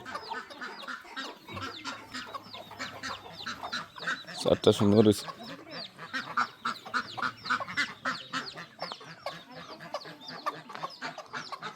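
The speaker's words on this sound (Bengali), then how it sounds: "এই যে মুরগি" Chickens cluck and squawk around the area while people talk, with a louder burst of flapping or squawking midway.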